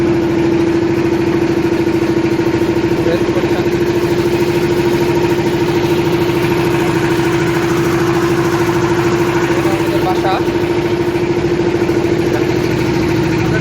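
A trawler engine drones steadily and loudly throughout, heard from inside the boat on a river in Tanguar Haor, with a strong low hum; a voice speaks briefly near the end.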